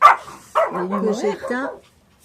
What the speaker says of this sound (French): Willy, tu arrêtes d'aboyer.